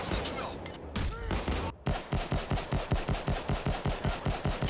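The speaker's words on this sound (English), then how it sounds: "they don't use the contractor's firing sound effect" Two custom pistols fire akimbo in the game Resmod, a rapid run of sharp, evenly spaced shots that continues steadily after a brief opening burst and a short gap.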